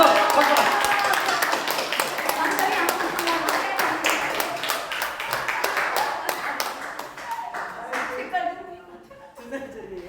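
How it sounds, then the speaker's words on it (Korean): A church congregation at a Thursday spiritual gathering claps and applauds steadily for several seconds to welcome a singer, thinning out near the end, with voices mixed in. "박수."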